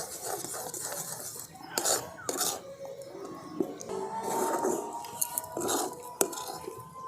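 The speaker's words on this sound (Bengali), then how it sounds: "সব কিছু আমি একসঙ্গে খুব ভালো করে মিশিয়ে নিচ্ছি" A flour and cornflour mixture is stirred into dough in a kadai, giving irregular scraping, knocks and sharp clinks of a utensil against the pan, close up and fairly quiet.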